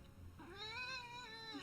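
A loud, talkative female house cat lets out one drawn-out, rising and falling meow, close and clear, with no other sounds around it.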